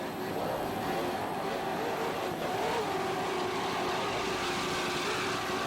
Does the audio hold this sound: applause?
no